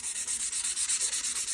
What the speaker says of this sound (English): So got a little 220 grit sandpaper here.